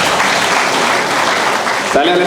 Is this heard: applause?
yes